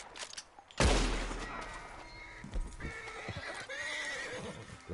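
A horse in the video game Red Dead Redemption 2 lets out a loud, close neigh with a sharp onset, followed by snorts and hoof clops.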